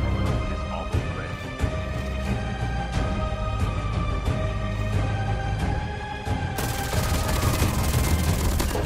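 Rapid bursts of MAC-10 submachine gun fire from Call of Duty Mobile, loud and continuous, with a denser, brighter stretch of shooting near the end.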